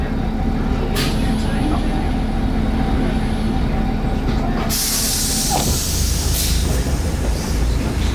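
Vintage museum railbus departing Gävle, heard from on board as a steady low rumble and clatter with hissing bursts of air and a sharper hiss surge midway, loud and continuous.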